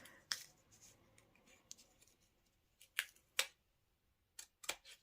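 Scissors trimming a paper flower, several sharp crisp snips scattered irregularly over a few seconds, faint and close up in an otherwise quiet room.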